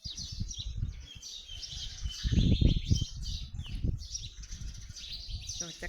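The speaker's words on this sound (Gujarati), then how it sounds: "ચકલીનો અવાજ બહુ આવે છે" House sparrows chirp busily in the upper register at a temple where pigeons gather, a dense continuous twittering over low rumbling handling noise and thumps.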